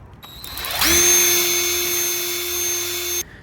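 A power impact driver whirs up to a steady high-pitched drone for a few seconds while drilling into a tire puncture hole, then cuts off abruptly.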